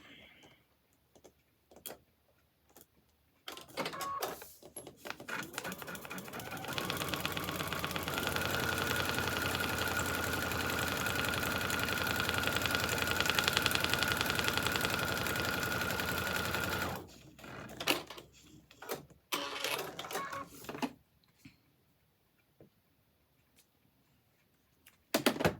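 A sewing machine stitches fabric onto foundation paper for a quilt block, starting with a few short bursts, then running in one long steady whir of about ten seconds before stopping, followed by handling clicks and scattered taps.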